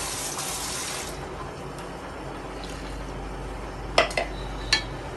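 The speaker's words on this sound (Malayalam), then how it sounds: "ശകലം വെള്ളവും കൂടെ ചേർത്ത് മിക്സി കഴുകി ഒഴിക്കാം." Water splashes while a mixer grinder jar is rinsed with a little water and emptied into a pot of beetroot kichadi, then a few sharp metallic clinks of the jar and utensils follow.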